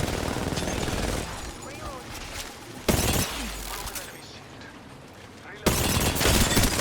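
Gunfire in the battle royale game Apex Legends, rapid bursts of shots crackling in loud stretches that drop back to quieter clatter between them, with game voice lines mixed in.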